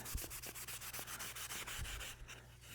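Hand sanding of a giant-scale P-51D ARF model airplane surface, with a steady, close back-and-forth rubbing rasp repeating in quick strokes, alone with no talk.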